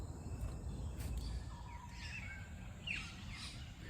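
Birds call from the trees in short scattered chirps and whistles, faint against a steady low rumble, with no one speaking.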